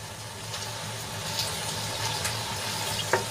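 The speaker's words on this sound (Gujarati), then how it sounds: "મસાલો સરસ રીતે ભીંડામાં આપણે મિક્સ કરી લઈશું" Okra cooking in a pan over low heat while being mixed with a peanut and sesame masala, a soft, steady sizzle with light stirring clicks and one sharp clink near the end.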